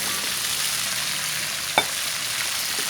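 Coconut milk for ginataan langka bubbles in a pot with a constant dense hiss, plus one short clink partway through.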